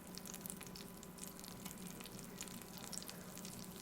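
Butter melting in a pan on a stovetop, with a soft, steady, crackly sizzle that carries on throughout, faint and with no talking.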